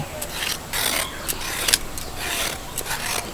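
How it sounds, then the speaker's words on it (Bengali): A knife scrapes the skin off a large, tender radish in short, rasping strokes, close up and fairly loud, repeating in an uneven rhythm with no talk over it. "ছুরির সাহায্যে একটুখানি এই যে গাটাকে ছুলে নেব"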